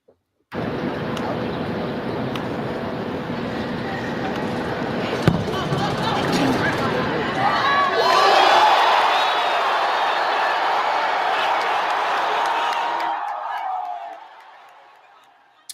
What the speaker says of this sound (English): Listen to the crowd before and after Xavier Worthy's 40 when they realize that he's going to tie the record